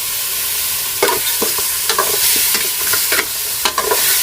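Pork pieces stir-fried dry in a pot, giving a steady sizzling hiss broken by loud scraping, stirring clatters roughly every half second, close and with no voices.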